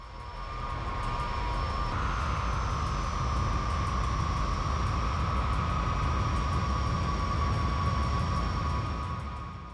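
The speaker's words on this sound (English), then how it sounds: "the Ilyushin 76 began taxiing down the runway." An Ilyushin Il-76 jet transport taxis down the runway, its engines holding a loud, steady whine and rumble throughout, with a tone that rises in pitch partway through and no voices.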